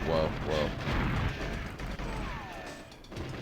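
Loud booming explosions and crashes pile up in quick succession in the video game GoldenEye, heavy and close, with rumbling debris between blasts.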